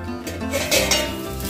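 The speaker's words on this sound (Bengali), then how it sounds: "তো এখানে আলু ভাজা বসিয়ে দিয়েছি" Potatoes frying in a new non-stick wok, a steady sizzle mixed with clinks and scrapes of a utensil stirring against the pan, close and continuous with no talking.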